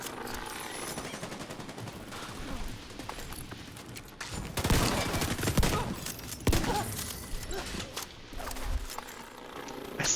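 Rapid video game gunfire, including shotguns, crackles in dense bursts through a busy action-game mix, loudest in heavy volleys midway and near the end.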